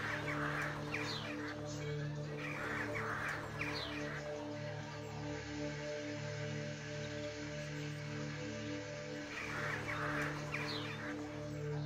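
Bird calls and rustling flutter from trees in the EVE game, a few bursts of clucking, cawing calls recurring over a steady ambient music bed.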